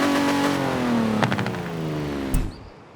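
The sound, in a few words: 1952 Hudson Hornet engine revving in the video game Forza Horizon 4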